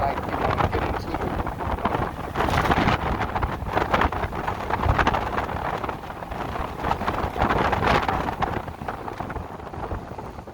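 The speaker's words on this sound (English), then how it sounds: "So the wind is pushing my bike one way or another" Strong, gusty wind buffets the microphone while someone rides an e-bike, with a steady roar that swells in several surges across ten seconds and drowns out other detail.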